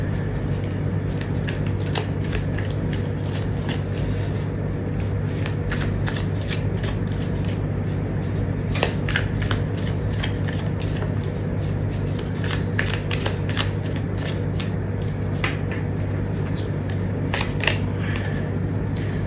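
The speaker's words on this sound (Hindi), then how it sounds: "जब तक मैं कार्ड शफल कर रही हूँ" Tarot cards are shuffled by hand, giving steady soft riffling and slapping that runs for the whole stretch. A constant low hum sits underneath, and there is no speech.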